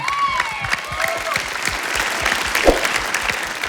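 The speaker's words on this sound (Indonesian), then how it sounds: "Boleh tepuk tangan." A studio audience at a comedy talk show applauds: a crisp, continuous patter of clapping heard close, with a few brief whistles and shouts mixed in.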